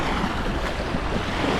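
Sea waves wash in at Las Salinas beach, Ibiza, a loud, steady roar of surf mixed with wind buffeting the microphone, continuous with no voices.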